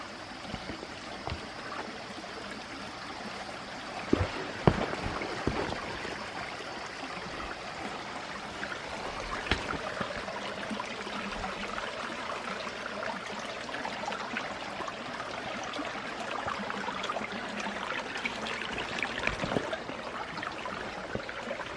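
A small river stream flows steadily along a hiking trail near a bridge, a continuous gentle rushing and trickling with occasional louder splashes or footsteps, no talking.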